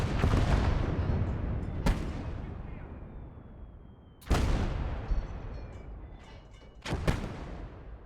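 Mortar in a WWII real-time strategy game firing three times, each a loud, sharp boom whose rumble trails off before the next shot.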